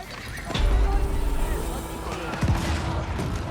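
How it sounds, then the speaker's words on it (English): Ottoman Janissary gunpowder units fire volleys in an Age of Empires battle against the Holy Roman Empire, sharp gun reports popping over a constant din of combat, marching and horses, with a commentator talking throughout. "Janissary is firing away as well"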